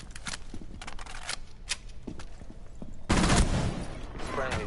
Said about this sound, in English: Yeah, shotgun.